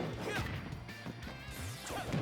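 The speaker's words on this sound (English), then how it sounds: "Yeah, like the F smashes, the smash attacks that usually Falco could easily get behind and attack with" Game sounds from Super Smash Bros. Ultimate as Falco lands a smash attack, with quick whooshes and impact thwacks layered over background music and steady crowd noise.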